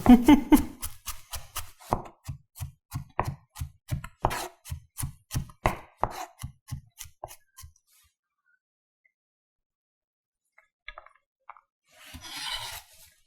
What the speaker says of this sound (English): Sounds like it's nice and crunchy. Just cutting right through. You need fresh garlic for this.